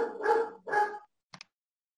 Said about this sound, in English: I had to pause for my dog to, stop barking at the post at the FedEx man